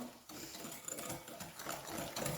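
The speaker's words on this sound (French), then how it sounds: "On prend le fouet et on va mélanger." A hand whisk beats sugar in a mixing bowl for an apple cake made without butter, a quick, steady scraping and rattling that churns close by with no talk over it.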